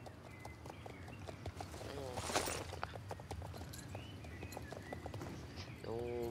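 Horse hooves clip-clop steadily under a rider in the Star Stable Online game, a soft rhythmic walking beat running throughout with faint game chimes and a quiet neigh-like sound, while a person talks over it.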